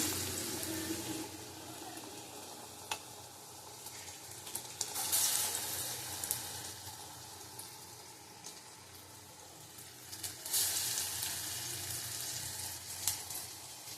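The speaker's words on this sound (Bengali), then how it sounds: "এই যে বেসন বাটারটা ভালো করে নুন হলুদ দিয়ে নিয়েছি নিয়ে একটা একটা করে তেলে দিয়ে দেবো" Raw banana slices coated in gram flour batter seasoned with salt and turmeric fry in hot oil, a steady sizzle and crackle with a couple of louder bursts of bubbling as pieces go in.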